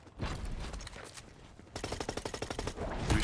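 Gunfire in Fortnite: scattered single shots at first, then a rapid automatic burst of about a dozen evenly spaced cracks, moderately loud and distant-sounding with no talk over it.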